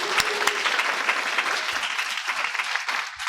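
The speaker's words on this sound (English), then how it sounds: "Can you show them your appreciation this morning in a round of applause?" A church congregation at a Sunday morning unity worship service applauds the young people, with a steady, dense round of clapping from many hands that fills the whole stretch without letting up.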